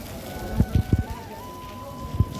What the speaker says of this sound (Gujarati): જો વરસાદ ધીરો ચાલુ સારો થયો